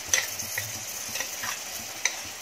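Masala spices with onions for bhuna mutton fry in a pan with a steady crackling sizzle. A spoon stirs through them, making a few sharp scraping clicks. The sound is close and moderately loud, with no voices.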